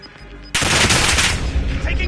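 After a quiet moment, a sudden loud burst of machine gun fire erupts in Call of Duty Warzone, a sustained close rattle of rapid shots lasting to the end.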